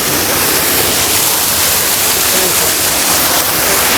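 Dense, steady roar of a waterfall at a Pune theme park, loud and close, holding the same broadband rush for the whole stretch with no break and no voices over it.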